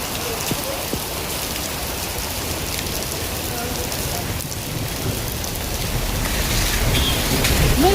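Heavy rain pours down steadily in Bhimtal, Uttarakhand, a dense, close hiss of drops on surfaces that holds constant and swells slightly toward the end, with no voices.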